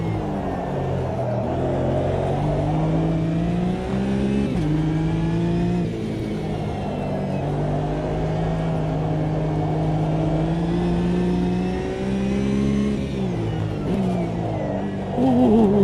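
A Porsche race car from a DTM session in Automobilista 2 revs loudly and steadily, its engine tone climbing and dropping through gear changes, upshifting again near the end, with no talk over it.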